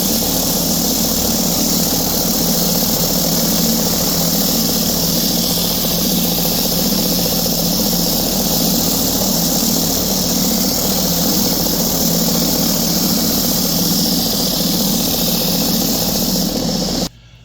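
A Vevor 4x24 belt sander runs with a shop vacuum attached, a loud, steady broadband whir and hiss holding at one level throughout and cutting off abruptly at the end, with no talking.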